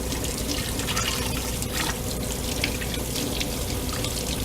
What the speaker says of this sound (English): We'll go ahead and turn on the water